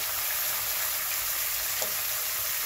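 Tomato and garlic frying in a pan over medium heat, a steady close sizzling hiss throughout with a faint stir near the end.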